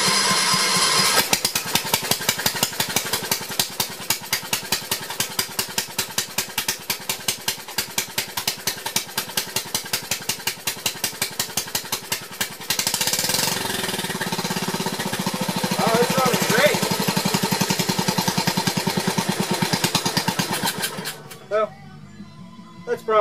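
A Gravely 526 garden tractor engine idles on its own while running rich, a loud, steady, rapid chuffing thump that continues nearly throughout before dropping off abruptly near the end.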